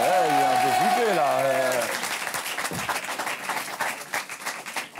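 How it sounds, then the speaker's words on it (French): Studio audience applause for actor Alain Bouzigues rises under a loud announcing voice and music, then continues alone as bursts of individual claps that thin out toward the end. "Merci d'applaudir Alain Bouzig."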